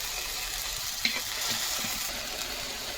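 Kadai chicken with ginger-garlic paste, garlic and green chillies fries in a pan, giving a steady close sizzle with soft scraping clicks as it is stirred.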